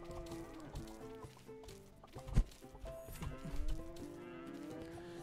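Oxen on a farm in the video game Tree of Life, lowing in layered calls beneath a busy game soundtrack, with a couple of heavier thumps midway.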